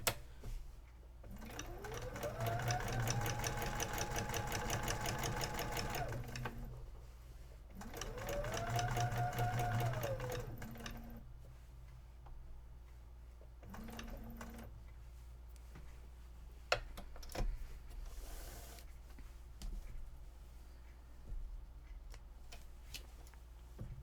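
Sewing machine doing machine quilting, running in two long bursts of rapid, steady stitching with a rising and falling motor whine, then going quiet apart from a few scattered clicks and handling noises.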